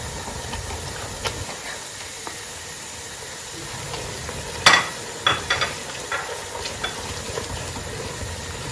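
Tomato puree goes into a hot pot of Ghanaian chicken stew, giving a soft steady sizzle and hiss with scattered stirring knocks and scrapes, a cluster of louder clatters partway through.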